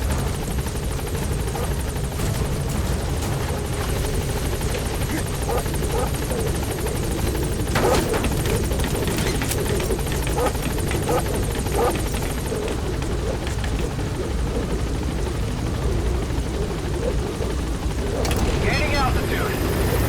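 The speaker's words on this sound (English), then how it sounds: "Support helicopter has arrived." A support helicopter arrives at a landing zone, its rotor beating as a loud, continuous, close drone that holds steady for the whole stretch, with occasional radio-style voices mixed in.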